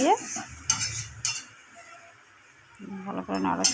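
Green chili curry is stirred in a pan, giving soft scraping and clinks of a utensil over a light sizzle, with short pauses between strokes and a voice speaking briefly.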